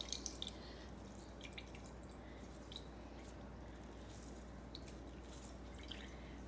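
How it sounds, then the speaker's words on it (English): Water drips from grated cucumber wrung in cheesecloth, a faint scattering of small splashes and trickles against quiet room tone. "So I put it into some cheesecloth and wring it. Look at how much more water came."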